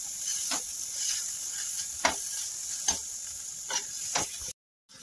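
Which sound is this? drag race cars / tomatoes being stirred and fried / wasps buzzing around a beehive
tomatoes being stirred and fried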